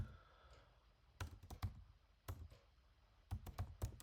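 Quiet computer keyboard typing with light clicks in a few quick clusters, ending in firmer key presses such as a tapped enter key, close and soft against faint room hiss.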